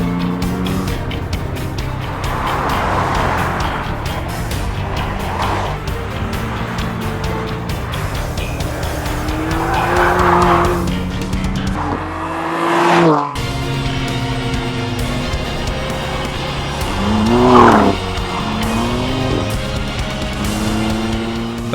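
A BMW M4 fitted with M Performance Parts works through a smooth, sweeping winding road, its engine note rising and falling steadily through the bends, with one brief drop in sound midway and a sharp rev peak later on.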